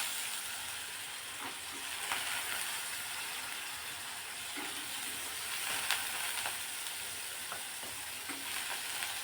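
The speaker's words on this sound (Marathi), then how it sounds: "चणा डाळ थोडीशी या तेलात परतून घेऊ आपण।" Soaked chana dal frying in hot oil with spices in a pan, a steady soft sizzle and hiss with occasional light stirring clicks, fairly quiet and continuous with no voices.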